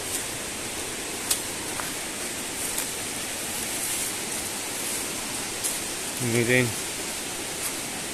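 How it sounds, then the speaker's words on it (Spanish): A river in the Mixteca region rushes in a steady, even broadband wash that runs through the whole stretch, with a short voice rising over it near the end. "Miren acá está el río."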